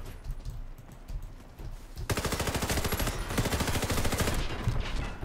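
A KRISS Super V custom SMG fires in the video game Warface: scattered quieter shots give way to a loud, sustained burst of rapid automatic fire, close and continuous.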